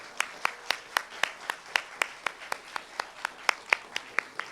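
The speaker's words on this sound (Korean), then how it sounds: "다시 한번 더 크게 함께 박수 올려드립니다." Rhythmic, evenly spaced clapping from a church congregation during an afternoon worship service, steady beat at about four claps per second, moderately loud with no talking.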